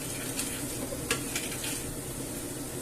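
Sweet paprika being stirred into hot oil in a pan for a garlic paprika sauce, a steady sizzle with a few sharp utensil clicks and scrapes against the pan, no talking.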